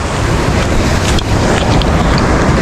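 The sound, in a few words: big ocean waves at sea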